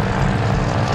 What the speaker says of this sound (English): 21 planes and 240 paratroopers take to the air